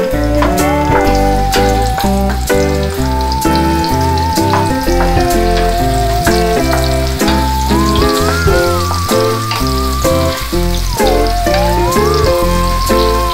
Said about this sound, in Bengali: দিয়ে এটাকে নেড়ে চেড়ে হালকা একটু সফট করে নেব।